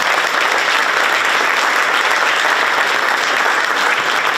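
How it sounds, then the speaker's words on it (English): A high school spring band concert audience applauds the percussion and brass choirs, loud dense clapping holding steady throughout with no talk over it. "let's give those guys a really quick round of applause"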